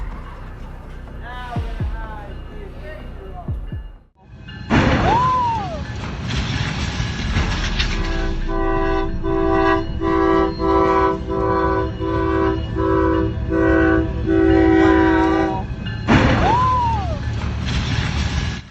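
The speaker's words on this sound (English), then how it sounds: "The train was traveling south at about 8 miles per hour when the crash occurred." A passing train sounds its horn in a long, steady, sustained blast over rumbling rail noise, with shorter horn calls before and after and people talking at times.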